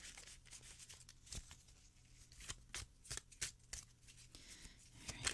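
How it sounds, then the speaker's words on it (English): A Rider-Waite tarot deck being shuffled by hand: close, quiet, rapid riffling and sliding of cards in irregular bursts, with no talking. "I will shuffle these"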